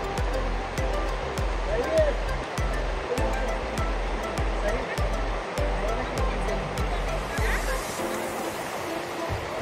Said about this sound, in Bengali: ওইদিকে ঠিক ওয়াটারফলের মতো লাগছে সাউন্ডটা।